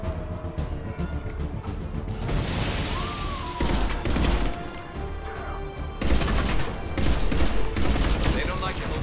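Dense game gunfire in Mass Effect 3 during an attack on the Citadel, sustained bursts with heavy low rumble and crashes under a continuous battle soundscape, with talk over it.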